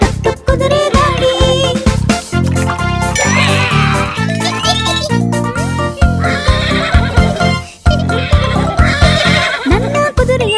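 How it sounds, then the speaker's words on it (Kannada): A horse pulling a cart neighs and whinnies repeatedly in loud, close calls, with jingling bells and a steady rhythmic backing of music throughout. "ನನ್ನ ಕುದುರೆಯು ಹೀ ಎನ್ನುತ್ತ ಕೆನೆಯುವುದನ್ನು ಕೇಳುತ್ತಿರು"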